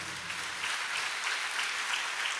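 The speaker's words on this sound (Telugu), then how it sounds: "కొట్టండి చప్పట్లకు వచ్చి మరి" A church congregation claps together through a sermon, a steady dense applause that stays loud and even from start to finish with no voices above it.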